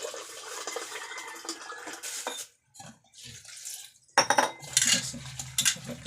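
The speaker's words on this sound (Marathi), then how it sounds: "आता ह्याच्यात पाणी बसत नाही म्हणून मी पातेल्यात धुवून घेते." Cut vegetables being washed by hand in a pot of water, with close clattering of the metal pot and sloshing, splashing water in bursts separated by a brief pause.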